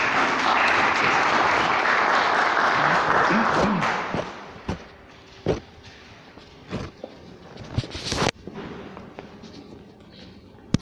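An audience applauds a guest speaker at an evening lecture on Dostoevsky, a dense, steady wash of clapping lasting about four seconds before fading into scattered claps, rustling and light movement.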